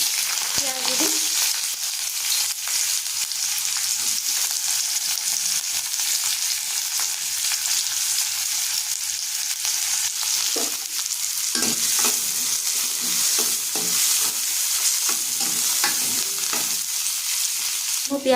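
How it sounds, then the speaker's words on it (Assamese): Onions frying in smoking-hot oil for a pork curry, a steady dense sizzle throughout with occasional scraping and stirring clatter, no voices. "এয়া দেখিছেনে মোৰ তেলখিনি গৰম হৈ গ'ল, ধোঁৱা ওলাইছে। আৰু এতিয়া মই পিঁয়াজ দি দিম"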